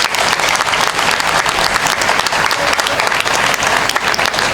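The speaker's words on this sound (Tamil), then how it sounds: "அந்த பிள்ளைக்கு ஒரு கைத்தட்டு 1 நிமிஷம் இடைவிடாது கொடுங்க பார்க்கலாம்." Dense, continuous audience applause from a crowd at a Tamil debate-stage event held for a temple consecration, steady and loud throughout without a break.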